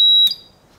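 Key alarm buzzer for a 1978 Corvette, built on a bench power supply, giving a loud, piercing electronic tone that cuts off abruptly after a quarter second with a brief click.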